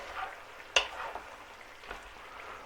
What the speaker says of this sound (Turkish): Evet biberler pişmeye devam ediyor.